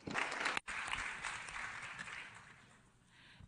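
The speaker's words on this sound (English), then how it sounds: "A round of applause." Audience applause fills a conference hall during an informal multi-stakeholder hearing of the 2022 International Migration Review Forum. It is a dense, steady clapping that breaks briefly near the start and then fades toward the end.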